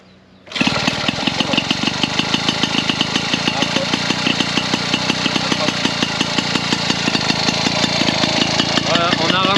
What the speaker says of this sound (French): Voilà, on a un ralenti stable.